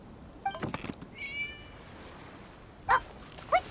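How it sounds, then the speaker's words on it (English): Several short cat meows in a video game, light and thin, spaced out over a quiet background with a few soft clicks between them; no talking. "It was just a cat."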